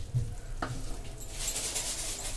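Milk and condensed milk being stirred into moong dal halwa in a pan, a faint soft sizzle with a spoon scraping once, quiet and close, with no talking.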